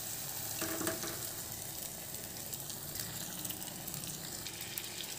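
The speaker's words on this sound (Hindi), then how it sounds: "अब हम इसमें एग डाल देंगे।" Eggs sizzle and fry with cooked tomatoes in hot oil for egg bhurji, a steady dense crackle and hiss that runs throughout at even loudness, with no voices.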